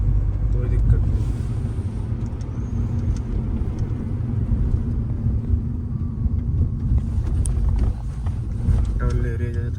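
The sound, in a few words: Hyundai i20 petrol car driving in fifth gear at 50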